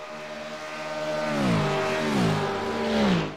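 Supercar race cars scream past during the ANZAC 6-hour race, a loud engine note rising as they approach, then falling in pitch through repeated shifts as the pack sweeps by.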